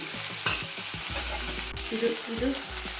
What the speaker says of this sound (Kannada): ಓಕೆ, ಇದನ್ನು ಚೆನ್ನಾಗಿ ಫ್ರೈ ಮಾಡ್ಕೊಳ್ಳೋಣ.